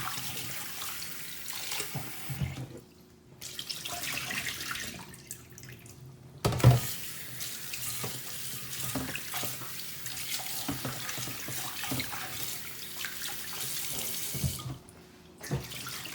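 A kitchen tap runs while raw prawns are rinsed, a steady splashing stream broken by short pauses and a clunk as the water shifts, close by and with no talk.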